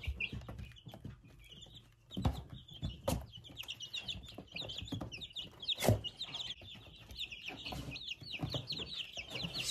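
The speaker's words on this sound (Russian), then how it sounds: "третья коробка у меня содержатся вот такие вот цыплята" Young chicks kept in a cardboard box brooder peep and chirp continuously in quick high bursts, with a few soft clucks and low bumps beneath, fairly faint and close.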